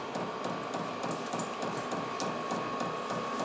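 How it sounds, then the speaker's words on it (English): A Vevor 12V 8KW diesel air heater hums and whirs steadily as its turbo winds up, a close, even mechanical drone with a faint repetitive ticking and no talking. "Just gotta wait for the turbo to wind up."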